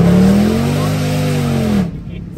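Jaguar XFR with a supercharged V8 pulls hard under load, a loud rising engine drone heard close from inside with the windows down, cutting off sharply near the end.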